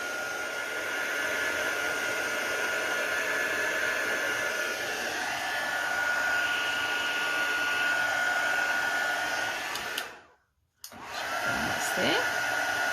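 A heat tool blows a steady, close whirring roar while it dries pigment ink on a stamped card. It cuts out briefly near the end, then starts up again.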